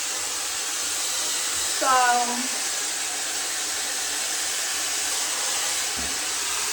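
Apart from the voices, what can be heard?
hair dryer blowing on warm setting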